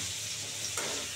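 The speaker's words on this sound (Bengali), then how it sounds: "আলুটা একটু লাল করে ভেজে নেব" Potatoes fry in salted oil in a pan, a steady close sizzle with a brief scraping swish of stirring near the end.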